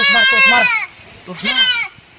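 A goat bleats twice, loud and close, each call a wavering, quavering cry with a short pause between them.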